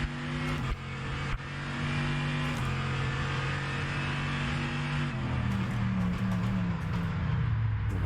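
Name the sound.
race car engine revving in rFactor 2 hypercar mod video game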